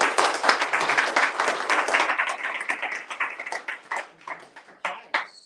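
An audience at an entrepreneurship event applauds, dense clapping at first that thins into scattered, separate claps before stopping.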